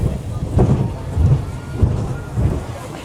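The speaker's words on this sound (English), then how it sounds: "People are showing up, even though it's raining." Steady rain patters over a low rumbling background at Disneyland, with a few heavier thumps and faint voices of arriving visitors mixed in.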